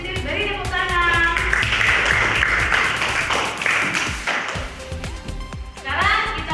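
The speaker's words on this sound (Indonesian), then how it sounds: "Oke, terima kasih kelompok positif. Beri tepuk tangan." Classroom applause for a student group in a school lesson, a burst of clapping from pupils over several seconds with a voice speaking over the start and end.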